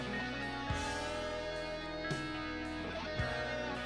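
A double-neck guitar plays a solo live off the floor, sounding dense and sustained with a full band underneath. Accented hits land roughly every second or so, and there is no talk.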